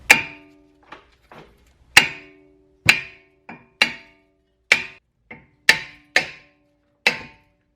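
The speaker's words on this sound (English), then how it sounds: "a few good whacks will remove it. It's corroded a little bit." Hard metallic hammer blows ring out one at a time against a corroded brake rotor on a 2011 Toyota Avalon, about a dozen loud close hits with short bright decays and brief pauses.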